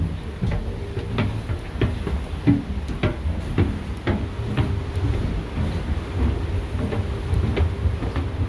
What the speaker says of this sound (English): And the hail.